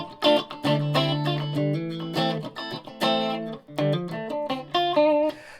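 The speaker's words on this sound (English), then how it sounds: "position 4 you get both of these coils split down, so you get a sort of Telecaster in the middle position." An Ibanez PGM electric guitar with both humbucker coils split in the middle position plays a bright, twangy, Telecaster-like riff of chords and single notes, clean and close, with no talking.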